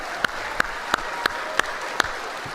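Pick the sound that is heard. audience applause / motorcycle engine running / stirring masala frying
audience applause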